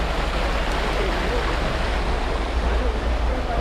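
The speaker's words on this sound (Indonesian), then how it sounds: "Nah ini kita udah di sungai." River water flowing steadily at a coffee plantation, a continuous broad rush close by with no clear voices over it.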